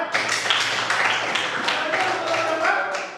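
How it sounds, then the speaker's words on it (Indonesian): A class gives a short round of applause: brisk, dense hand clapping lasting about three seconds, fairly close, with a voice heard among the claps. "Tepuk tangan bagi Andrea."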